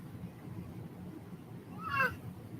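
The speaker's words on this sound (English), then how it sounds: "What's a kitty cat say? Meow." A pet cat gives a single soft meow close by, rising and falling. It sits over low, steady household background noise, with no talking during the call.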